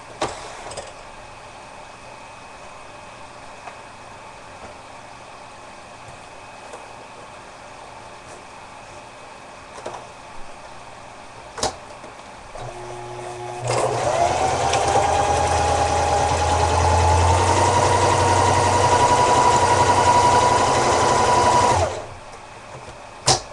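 A sewing machine runs a straight stitch through fabric for a realistic K9 dog ear, a steady motor whir lasting several seconds after quiet handling noises.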